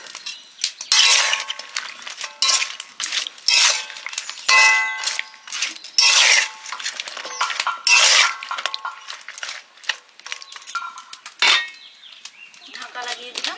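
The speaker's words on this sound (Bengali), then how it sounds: "ঢাকা লাগিয়ে দিলাম।" A metal lid goes onto a cooking pot of lightly steaming beans in a home kitchen. Repeated close metallic clanks, clinks and ringing scrapes come in irregular bursts with short pauses between them.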